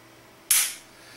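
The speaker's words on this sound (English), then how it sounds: "If you watch the trigger and listen for it to break" A pistol trigger breaks during dry fire, giving a single sharp click close by that dies away quickly against a quiet background.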